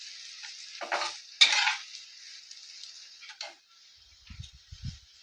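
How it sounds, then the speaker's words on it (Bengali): Grated carrots fry in a pan with a soft hissing sizzle, broken by a few clinks and scrapes of a spoon stirring, ending with some low dull knocks. "দেখো আমি একটু গাজরটাকে ফ্রাই করে নিচ্ছি"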